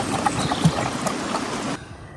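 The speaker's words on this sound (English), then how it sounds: "get some water in there." Water is poured into a Dutch Army canteen cup set over a small outdoor stove, a close, steady trickling splash lasting nearly two seconds before it stops, with quiet background noise.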